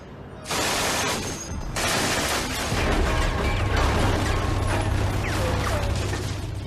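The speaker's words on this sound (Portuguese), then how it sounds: "Ela era a metralhadora mais rápida do mundo" A very rapid MG-42 machine gun fires in long bursts, so fast the shots blur into a continuous ripping roar, loud and close, briefly pausing between bursts.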